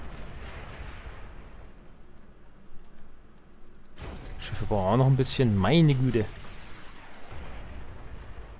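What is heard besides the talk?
explosions and artillery fire in the RTS video game Beyond All Reason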